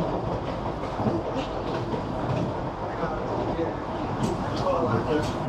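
Vande Bharat Express running at full speed between Puri and Howrah, heard from inside the coach as a steady, dense rumble of wheels and rail noise with faint clicks, continuous throughout.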